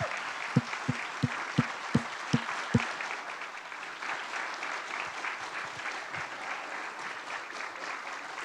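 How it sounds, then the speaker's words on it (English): A live in-person audience applauds for the actors, beginning with a few sharp isolated claps before settling into a steady, moderately loud round of clapping from a crowd. "if we can just get a round of applause for the actors"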